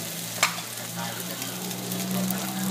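Rice hits a hot pan for Thai fried rice and crackles in a steady sizzle that follows a sharp scrape of the spatula at the start, with no talking.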